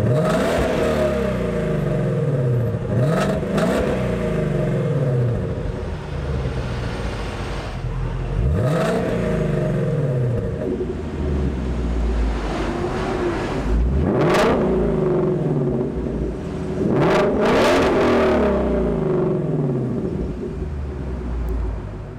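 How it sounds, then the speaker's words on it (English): A naturally aspirated V8 engine in a 2016 Ford Mustang Shelby GT350 revs repeatedly, rising and falling in loud, throaty surges about every four seconds, close by and without talk. "it just sounds like naturally aspirated V8 goodness"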